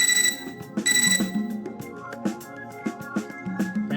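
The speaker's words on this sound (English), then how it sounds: "Our mutual silence is interrupted by my computer terminal beeping." A computer terminal in the Fate/EXTRA video game gives a series of bright electronic beeps and chimes over a soft musical background, with bursts of tones recurring throughout.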